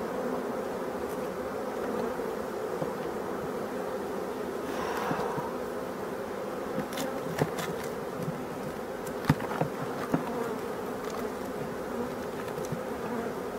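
Bees at abandoned hives in a forest, a dense continuous buzzing swarm close by, with individual insects droning past and a few faint knocks.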